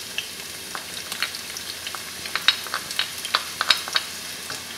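Onion sizzling and crackling in about half a cup of hot oil in a stew pot, with steady frying hiss and scattered sharp pops that grow busier toward the end, close and moderately loud with no talking.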